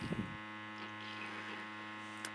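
An ultrasonic cleaning machine hums steadily with a dense, even vibration, a close continuous drone running alone without talk, with a brief soft knock near the end.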